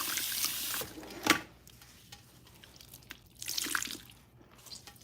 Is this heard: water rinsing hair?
yes